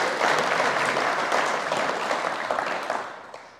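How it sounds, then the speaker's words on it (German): An audience applauds Clemens Schmidt, a Le Mans and 24-hour race winner, at a motorsport talk event. The clapping is loud and dense from the start, holds steady and then tapers off near the end. "Danke, dein Applaus, Clemens Schmidt."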